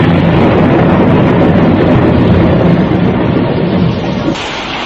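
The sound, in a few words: rain and thunder sound effect in a radio drama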